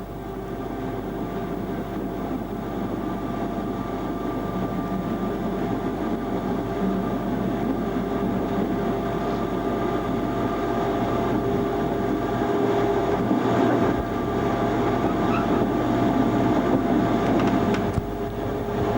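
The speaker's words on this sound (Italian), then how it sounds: "Poco a poco il treno riprende velocità." A train on the Pontebbana railway between Udine and Tarvisio, recorded from the cab, with a continuous loud rolling roar that builds slightly as it gathers speed.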